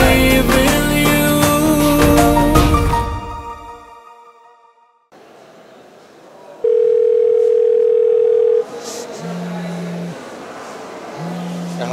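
A phone starts ringing with an incoming call after music fades out, giving one long steady tone followed by shorter repeating beeps with pauses between them, close and clear.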